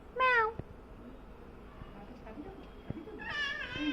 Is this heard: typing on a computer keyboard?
no